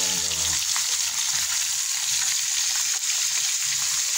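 Fish frying in oil in a pan, a steady loud sizzle with crackling spatter that continues unbroken throughout, heard up close.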